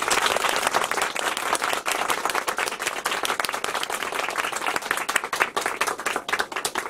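An audience claps without cheering at a behind-the-scenes event for singer Park Sihwan, dense continuous applause from a small crowd, close and fairly loud, holding steady for several seconds with no voices on top.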